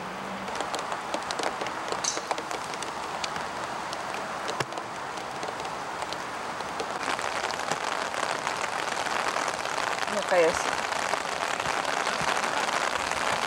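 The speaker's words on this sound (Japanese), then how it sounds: "あ、なんと雨が降ってきちゃった。" Rain falls steadily on a golf course during the Japan Senior Open golf championship, a dense, close patter of drops across the whole clip with light rustling.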